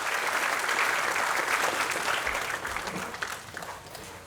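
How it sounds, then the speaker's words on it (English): A banquet audience at a scholastic sports association fish fry gives a round of applause for one person, with full steady clapping that thins out and fades over the last second or so. "can everybody give a round of applause for Todd at the Boys and Girls Club?"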